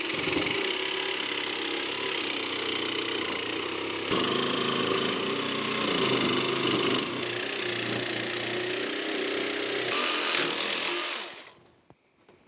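Power tool cutting through steel for a fireplace surround, a steady loud grinding whine held for about eleven seconds before it cuts off and spins down.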